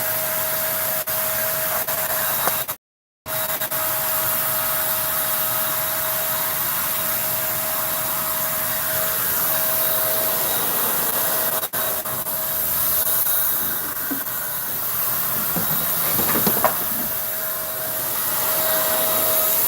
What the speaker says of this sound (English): this is the part where I adjust my sprayer.